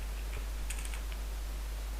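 Someone types on a computer keyboard while entering plugin configuration text, producing a few quiet, scattered key clicks over a steady background hum.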